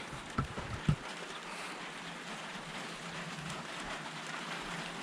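Steady rain hisses evenly on a surface while fishing, preceded by a couple of brief dull thumps at the start.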